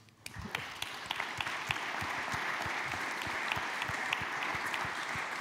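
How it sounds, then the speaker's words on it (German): Audience applause after a panel discussion with Theodor Heuss Medal recipients, starting abruptly and swelling into a steady, fairly distant crowd clapping with a few sharp individual claps. "Applaus"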